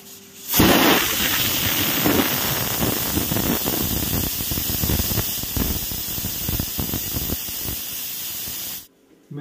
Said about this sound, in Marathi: कुकरला आपल्याला आता 6 ते 7 शिट्ट्या देणार आहोत आपण